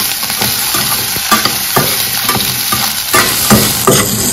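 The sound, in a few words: frying solan in a little oil in a pan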